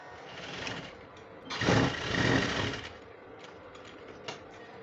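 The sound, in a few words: sewing machine stitching a trouser pocket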